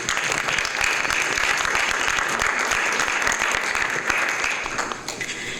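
A workshop audience claps together in a full, sustained round of applause, a dense, steady wash of many hands that holds evenly before easing slightly at the end.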